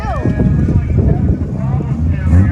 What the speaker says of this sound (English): there goes a truck with a drive shaft hanging out